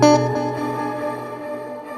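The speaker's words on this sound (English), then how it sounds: "So you get this kind of chipmunk effect." A bright, pitched-up buzzy synth tone with a repeating delay in Logic Pro X's Delay Designer, giving a squeaky chipmunk-like echo that slowly fades.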